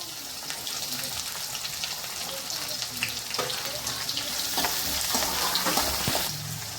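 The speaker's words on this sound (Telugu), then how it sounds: "ఉల్లిపాయలు ఎర్రగా ఫ్రై చేసుకోవాలి" Onions fry in a pan alongside chana dal for a cluster bean and egg fry, with a dense, steady sizzle and occasional stirring clinks, close up and without talk.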